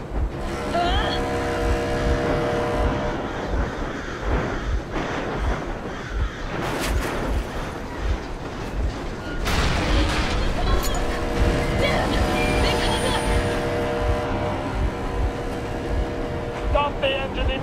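A vehicle engine rumbles steadily in a snowy winter Moscow scene in Metro Exodus, loud and close, mixed with a dense layer of game music and sound effects, with louder surges midway.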